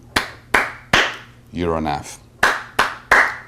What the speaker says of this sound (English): Did I clap?